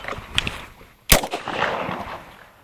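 An MK23 SOCOM pistol fires one sharp, loud gunshot with a brief echoing tail. A few fainter clicks and knocks come just before it, and there is no talk.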